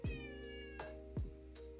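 A cat meows twice, clear and close, with a short gap between the two calls and no talking.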